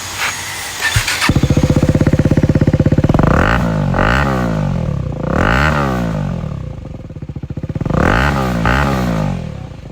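KTM Duke 250 motorcycle fitted with an aftermarket exhaust starts with a short crank, settles into a loud, steady idle, then gets repeated sharp throttle revs rising and falling close by.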